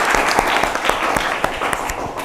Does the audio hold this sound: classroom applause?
yes